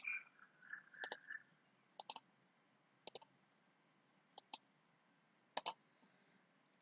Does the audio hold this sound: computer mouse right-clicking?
yes